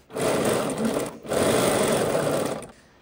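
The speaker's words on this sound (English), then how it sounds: "we're just going to sew at 1/2 inch" A sewing machine runs in two steady bursts of stitching through two pant pocket pieces at a half-inch seam, with a brief pause between them. It whirs loud and close, then stops.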